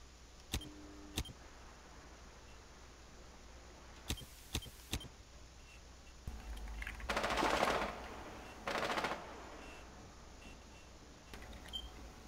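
Scattered gunshots and a couple of short automatic bursts in Rainbow Six Siege, a tactical shooter, in a hostage match on the Kanal map, mostly faint and distant with quiet gaps between.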